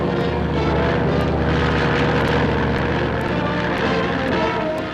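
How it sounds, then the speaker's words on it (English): An airplane engine roars loudly and continuously during an aerial coyote hunt over snowbound country, a steady propeller drone with no talk. "The roar of the engine drives the coyotes out of their lairs"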